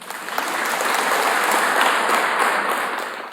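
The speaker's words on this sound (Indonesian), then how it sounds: "beri tepuk tangan dong." Audience applause fills a hall at the opening of an Indonesian government national coordination meeting on internal oversight, a steady dense clapping that holds evenly throughout without pause.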